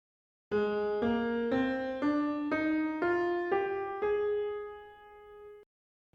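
A rising eight-note scale on a sustained tone, evenly paced, resembling a major scale with one altered step, ending on a long held top note.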